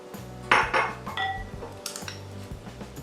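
Dry batter ingredients given a quick stir in a bowl, a few scraping and knocking strokes of a utensil against the bowl, close and moderately loud, with a steady low hum in the background.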